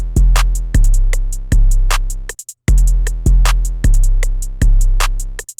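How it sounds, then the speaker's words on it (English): Heavy 808 bass drum hits with the out knob turned up, booming and sustained with long decaying tails, playing a repeating pattern over a hi-hat groove, loud and upfront. "And then lastly, we have the 808, which is going to sound like this."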